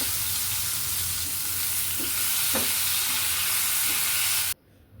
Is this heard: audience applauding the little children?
no